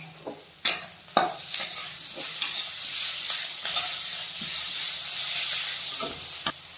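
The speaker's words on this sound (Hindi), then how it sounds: "अभी डालेंगे गार्लिक जिंजर पेस्ट।" Garlic ginger paste frying with chicken feet, onion and chilli in a pan, a strong hissing sizzle punctuated by sharp scraping strokes of a spatula, close and lively, with no one speaking.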